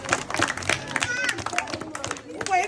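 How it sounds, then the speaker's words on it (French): A group applauds children at an orphanage celebration in Cameroon, scattered sharp claps in an uneven rhythm, with voices talking and calling over them. "Applaudissez les enfants."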